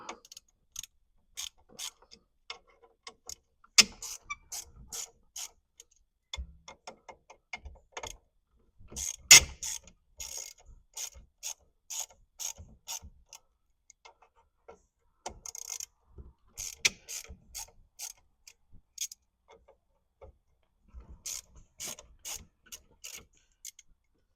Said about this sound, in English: let's go get the steering wheel off real quick